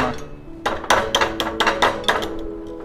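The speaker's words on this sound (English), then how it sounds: "I'm straightening it out with the" Duralon hammer striking annealed silver wire stock to straighten it, a run of about eight quick, ringing metallic blows in steady rhythm, close and loud, fading out after the last strike.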